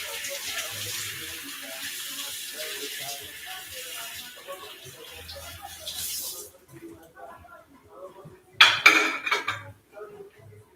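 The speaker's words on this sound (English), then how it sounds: "So let me just get this washed." Pots and cutlery clatter in a sink under a running tap while egusi soup cooks, water streaming steadily before a sharp burst of dish clanks near the end.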